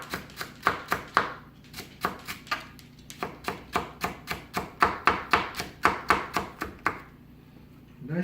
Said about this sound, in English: Now next we got our shallot, which I've already peeled. And these I'd like to just slice nice and thin.